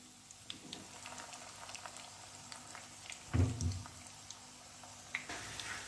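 Potato strands frying in hot oil for an aloo roll, a soft continuous sizzle and bubbling with faint crackles throughout, with a brief louder clatter partway through and no talking.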